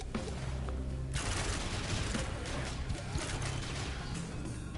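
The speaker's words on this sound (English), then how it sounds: "because they just gave me more fireworks" Fireworks go off in the video game Risk of Rain 2, a dense rapid crackle of small bursts and pops layered over game noise, fairly quiet and sustained.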